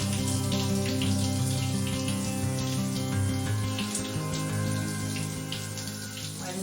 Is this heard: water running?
yes